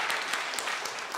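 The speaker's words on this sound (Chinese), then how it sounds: "咱这边来掌声鼓励" Steady applause from a church congregation at an elders' appreciation Sunday service, a continuous wash of many hands clapping with no speech over it.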